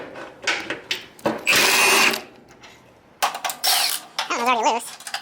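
Short whirring bursts from a power tool working loose bolts on a Cub Cadet 100 garden tractor, several separate spins of about a second each with gaps and clanks between, fairly close.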